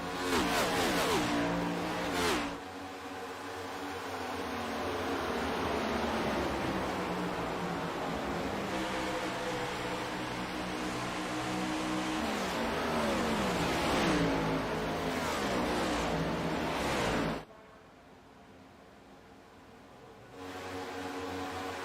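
Race cars circling the track at the Michigan 100, a continuous loud engine roar that rises and falls as cars pass close by, cutting off sharply near the end before resuming.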